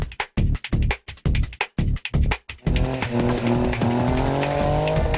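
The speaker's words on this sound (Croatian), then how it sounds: "Kotači se okreću, a uslijed toga dolazi do paljenja guma." A stationary car does a burnout with the brake held and throttle floored, opening with choppy bursts of engine revving, then settling into a loud sustained tire squeal with a high whining tone close by.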